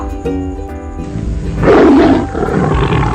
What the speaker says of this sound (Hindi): वह गुफा के अंदर से दहाड़ा